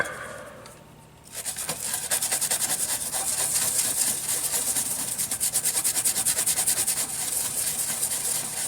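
Close, steady rhythmic scrubbing of a circuit board on a Tektronix 496 spectrum analyzer wetted with alcohol, a quick run of brush strokes starting after a short pause and continuing alone without talk.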